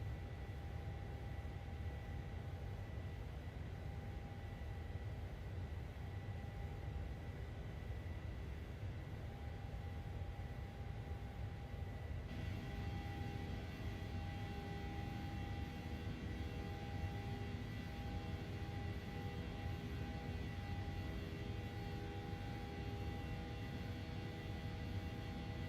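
Boeing 737 engines in Microsoft Flight Simulator 2020 drone steadily just after takeoff: a constant, even jet roar with tonal whine, fairly quiet and unbroken for the whole stretch, with no voices.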